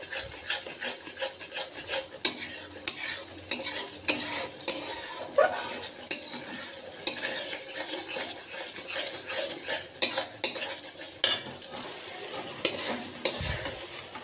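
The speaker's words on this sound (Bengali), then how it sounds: "অনেকক্ষণ ধরেই কষাবো, যতক্ষণ না মশলার গা থেকে ভালো করে তেল ছেড়ে আসে।" A spatula scrapes and stirs spice paste frying in oil in a pan, with a sizzling bed and repeated sharp metallic scraping strokes in an uneven rhythm, close and fairly loud, no talk.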